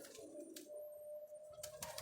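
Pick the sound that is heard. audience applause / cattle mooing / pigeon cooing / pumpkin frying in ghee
pigeon cooing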